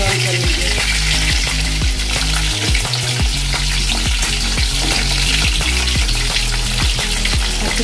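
Chicken pieces frying in hot oil until golden brown, a loud, continuous dense sizzle and crackle with occasional stirring clatter, close up.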